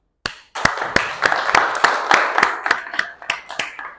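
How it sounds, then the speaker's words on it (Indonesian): A classroom group claps in applause for a presentation at an Islamic studies lesson. Roughly a dozen sharp, evenly spaced claps ring out close by over a dense bed of scattered hand claps, with no talking. "Mari bersama-sama kita beri aplaus."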